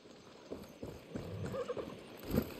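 Horse hooves clip-clop at a steady walking pace in Far Cry 6, soft and moderately close, with a faint snort near the end and no talking.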